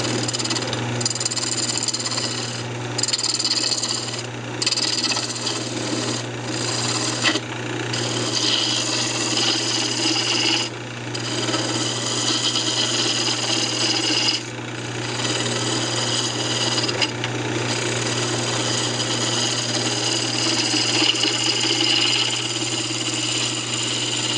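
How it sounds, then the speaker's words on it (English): A roughing gouge cuts a wooden coffee cup blank spinning on a lathe, a continuous loud rasping scrape over a steady motor hum, with brief dips as the tool lifts off the wood. "Then we can just go ahead and clean the rest of the material off with your roughing gouge."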